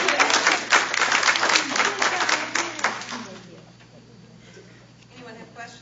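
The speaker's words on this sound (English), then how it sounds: "would you just give her a round of applause for" Applause from an audience at a transit riders advisory committee meeting, a fairly loud burst of clapping that fades after about three seconds into quiet room tone with faint murmuring.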